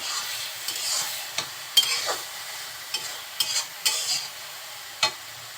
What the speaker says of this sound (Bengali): এখন খুব ভালোভাবে নেড়ে চেড়ে একটু ভাজা ভাজা করে নেব।